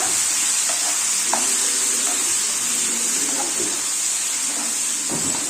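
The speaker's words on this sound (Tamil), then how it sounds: "தக்காளி இதில் ஆட் பண்ணி நல்லா கலந்து விட்டுடலாம்" Steady hissing sizzle of tomatoes frying in a pan, with a spoon scraping and stirring at intervals, close up and with no talking.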